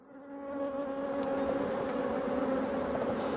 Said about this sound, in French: c'était une abeille noire